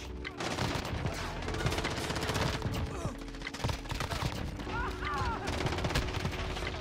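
Rapid gunfire from a shooter video game, with shotgun blasts among dense, continuous shots layered over game music and effects, loud and busy throughout.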